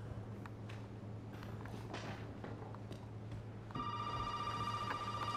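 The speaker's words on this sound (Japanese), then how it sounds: "電話鳴ってる。" Telephone ringing inside a house in Resident Evil 7, a steady electronic ring that starts partway through over a low room hum and faint creaks.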